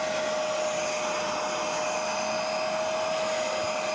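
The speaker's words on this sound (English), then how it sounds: "And now we suck all the dirt out." A vacuum cleaner pulls dirt and carpet cleaner solution out of the interior of a BMW 320d. It drones loud and steady with a constant whine throughout, and no one speaks.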